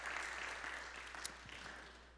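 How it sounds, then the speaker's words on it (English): Audience applause for the panelists at the close of a faith-based panel discussion, a soft, steady wash of clapping heard from a distance that fades slightly toward the end. "Give them a round of applause"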